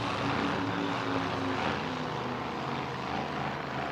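A racing powerboat engine, boat number 83, roars loudly and steadily during E C Griffith Cup practice, a dense continuous drone with no pauses.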